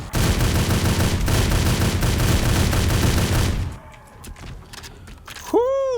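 Loud, dense .30-06 rifle fire in the survival game 7 Days To Die, rapid shots blurring into a continuous roar for several seconds before cutting off, leaving brief quiet clicks and a rising electronic tone.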